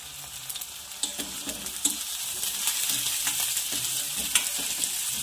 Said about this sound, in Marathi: आता मी वाटाणे ॲड करत आहे